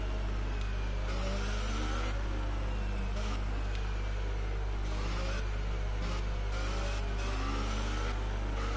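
Sauber Formula 1 car engine in the F1 2018 racing game on a formation lap at the French Grand Prix, a fairly quiet, continuous engine whine under a constant low hum.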